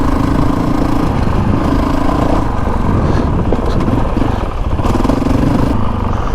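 A dirt bike cruises steadily along a dirt road on a dual sport ride near Crown King, its mid-pitched engine droning loud and close with a constant rattly hum and no breaks.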